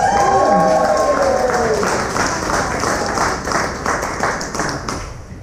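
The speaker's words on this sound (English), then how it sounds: "Keep it going, keep the applause going." Loud crowd applause at a poetry book launch at Some-Antics, sustained and dense, with a voice speaking over the opening moments before the clapping continues alone and slowly thins.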